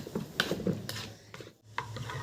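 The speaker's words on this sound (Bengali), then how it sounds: "খুব ভালো করে সব কিছুকে এবার মিশিয়ে নিচ্ছি ডিমের সাথে" Eggs being mixed with chopped onion, chilli and coriander in a bowl: close, quiet clinking and wet scraping strokes of a utensil against the bowl, in an irregular quick rhythm with brief pauses.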